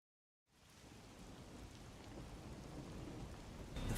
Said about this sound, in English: The faint sound of a ticking clock melts against the sound of rain.